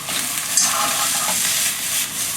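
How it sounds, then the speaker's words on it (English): Daikon and bean sprouts stir-fried for a curry noodle dish: a loud, dense, continuous sizzle with stirring, close up, with no talking. "It's a vegetable, a quick stir fry."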